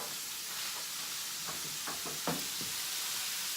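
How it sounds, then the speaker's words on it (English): Onions cooking down in a pan, a steady broad sizzle and hiss with a few soft knocks of a utensil against the pan. "You just cook the onions down in there."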